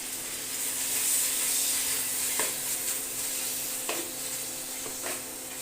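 Ginger and garlic paste frying in a pan for a chicken and potato curry gives a steady, even sizzle, broken by a few soft scrapes as it is stirred.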